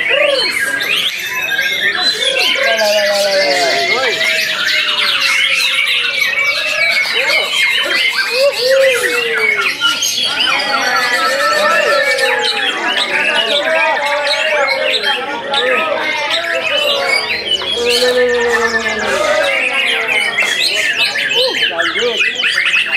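Dense, loud chirping and warbling song from a caged songbird in an Indonesian contest setting, continuous and busy with overlapping calls and chatter throughout.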